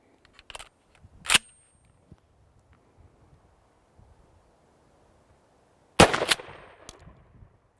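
Two shotgun blasts fired at a target on an outdoor training range, the first a sharp crack near 1.3 seconds after a small click, the second louder at six seconds with a brief rumbling echo, both close and loud in quiet surroundings.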